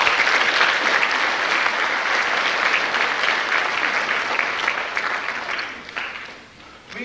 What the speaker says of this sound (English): I think they deserve a warm round of applause for their efforts.